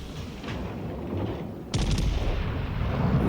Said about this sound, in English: Man, that is a nice broadside shot.